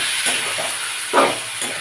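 Marinated chicken spiced with gondhoraj lime and chilli powder sizzles and hisses in a pan, with soft scrapes and bursts of frying as it is stirred, fairly quiet and close.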